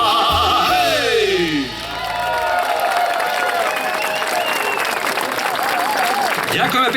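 Concert audience applauding after a folk song, a dense loud wash of clapping with a few whoops. Music fades out at the start as the clapping takes over.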